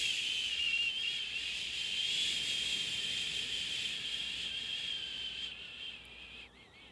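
A person imitating wind with a soft, breathy, sustained whistling hiss, steady and close, gradually fading toward the end.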